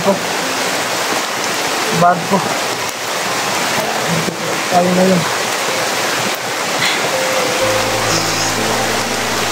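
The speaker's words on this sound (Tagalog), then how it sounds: "Nakakaulan na talaga, tol." Heavy rain falls outdoors in a steady, dense hiss, close and constant, while someone speaks briefly over it; a low hum joins near the end.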